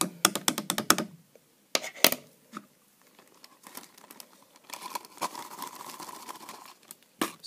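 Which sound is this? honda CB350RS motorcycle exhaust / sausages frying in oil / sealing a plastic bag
sealing a plastic bag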